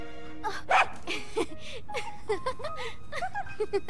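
A few short, bright, tonal yelps and whimpers of a dog in The Legend of Zelda: Breath of the Wild, with synthetic game-style chirps and blips scattered around them, fairly close and clear.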